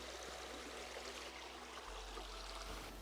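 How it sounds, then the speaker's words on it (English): A blackwater river with tree roots in the water flows in a soft, steady outdoor stream, faint and continuous with light gurgling and trickling and no voices. "This river always fascinates me. It's like a blackwater river."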